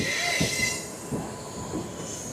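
Pinakini superfast express train running through a railway station near Chennai, with a steady rolling rumble, faint high wheel squeal and soft rhythmic clunks from the wagons, heard from on board.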